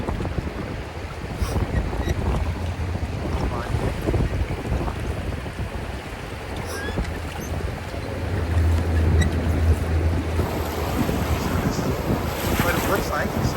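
A rowed raft shuttle crosses a fast-moving river on the Appalachian Trail, steady rushing water and strong wind roaring against the microphone throughout, with a low rumble swelling partway through.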